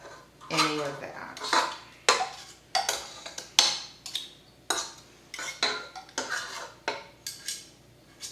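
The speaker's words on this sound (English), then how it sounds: "I'm being careful to scrape every bit of butter that I can off of this paddle" Scraping softened butter off a metal stand-mixer paddle, with repeated sharp clinks and scrapes of utensil against metal and bowl in an irregular rhythm, close and clear with no talking.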